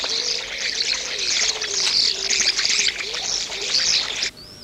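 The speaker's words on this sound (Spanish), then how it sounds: "Los estorninos se alimentan a nivel del suelo." Starlings calling near their ground-level feeding spot, a busy overlapping chatter of whistles, chirps and slurred notes, loud and close, ending with a single rising whistle.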